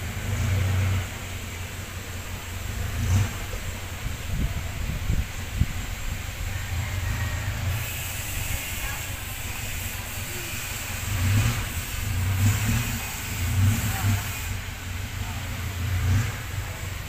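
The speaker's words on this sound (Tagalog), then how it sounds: "Running condition po ang ating jeepney." A 9-seater passenger jeepney engine idles steadily with a low rumble, rising now and then into short revs, while a voice talks over it at times.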